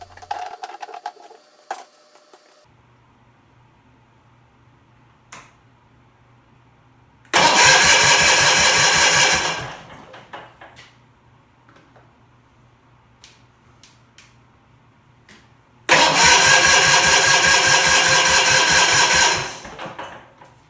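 A Bolens engine cranks and starts after its gas pump is primed, roaring loudly for a couple of seconds in two separate bursts before cutting out, with quiet clicks and handling noises between them.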